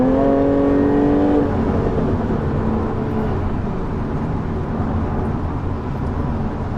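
A Jaguar F-Type accelerates hard, heard from inside the cabin, where a rising engine rev gives way to a sustained loud roar and road noise. No one speaks.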